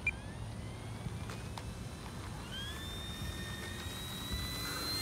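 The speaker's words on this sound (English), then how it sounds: "we'll do one more takeoff and come around for a landing. We'll do takeoff flaps this time." E-Flite P-51 radio-controlled model plane taking off with flaps down, a steady electric whine rising in pitch as power comes up, heard at a distance over a constant low outdoor rumble at night.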